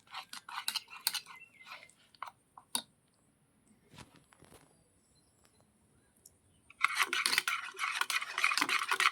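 Flour batter with salt being stirred for roti: quiet scattered clicks and scrapes of a utensil against a bowl, a near-silent pause, then a burst of brisk, rapid whisking strokes close by.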